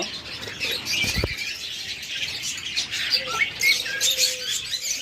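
Caged pet birds, a breeding pair of budgerigar-type birds kept with eggs and offered for sale, give scattered squawks and chirps, with a brief flutter of wings and a few soft knocks against the cage.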